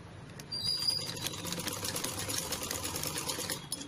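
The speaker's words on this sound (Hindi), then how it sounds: "और इनको सीधा स्टिच कर लेंगे।" A sewing machine runs a straight stitch along the shoulder seam of a baby frock, joining net and lining layers; a close, continuous rapid whir that rises and holds steady.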